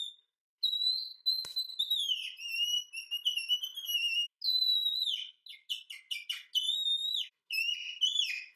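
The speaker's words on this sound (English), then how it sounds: "we're going to make one of these fantastic bird whistles or animal calls" A homemade bird whistle or animal call being blown, giving a string of bright, warbling chirps and trills in bursts with short pauses, close and clear with no voices.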